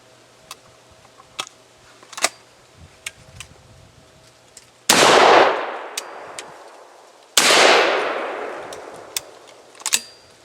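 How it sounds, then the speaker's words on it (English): A Stoeger STF 3000 shotgun fires two loud, close blasts a few seconds apart, each with a long decaying echo, among small clicks and handling noises. "Yeah, two more. We'll fire through it real quick."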